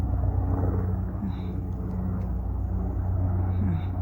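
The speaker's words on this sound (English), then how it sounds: "Now we hear a helicopter coming." A helicopter passes overhead outdoors, heard as a steady low rumbling drone that stays fairly constant throughout, with faint background sounds.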